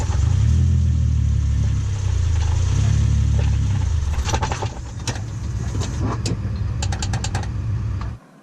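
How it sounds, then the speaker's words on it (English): A Nissan 370Z idles with a heavy low rumble, then the clutch chatters as it engages, giving rough, juddering pulses with sharp rattling ticks in the later seconds. It is close and loud with no talk. "That is the absolute worst clutch chatter that I have ever heard."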